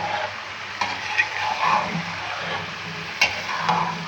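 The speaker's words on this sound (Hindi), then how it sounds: "चिकन गोल्डन ब्राउन हो रहा है, फ्लेम तेज़ है" Chicken for biryani sizzles and fries hard in a pot over a high flame, a continuous crackle broken by a few sharp stirring clinks and scrapes.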